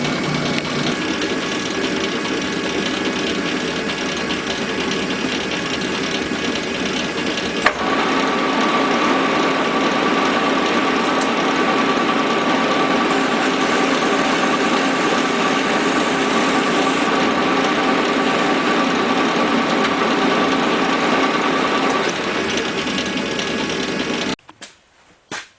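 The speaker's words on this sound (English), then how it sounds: "now we'll just come in here with the cutoff tool" A lathe cutoff tool parting off a transmission bushing for a Willys T90 column shift: a steady, dense mechanical whir and cutting hum for over twenty seconds, ending with a few clunks as the machine stops.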